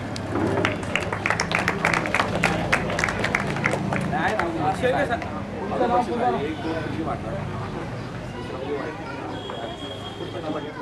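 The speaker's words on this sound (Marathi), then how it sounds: "यांच्यासाठी टाळ्या वाजवायच्या सर्व." Audience applauds a second-prize winner at a 2009 public library opening ceremony in Nandgaon: dense clapping mixed with crowd murmur for the first half, then thinning into general hubbub.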